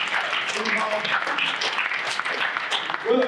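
An audience applauds at a roofing industry event, a dense steady wash of clapping from many hands, with a voice speaking over it near the end.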